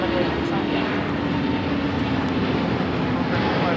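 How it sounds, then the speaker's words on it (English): Delta A350-900 jet taking off from LAX, a steady broadband roar of engine noise held at even loudness throughout, heard from a distance without any clear voices. "that was Delta 715 taking off to Atlanta on the A350-900"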